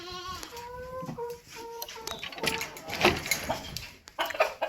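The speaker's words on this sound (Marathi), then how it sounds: "माझ्या मागे बघू शकता शेळ्या वगैरे गोट फार्ममध्ये आपले" Several goats bleat in wavering, repeated calls, close by on a goat farm in the morning, with general farmyard noise and rustling throughout.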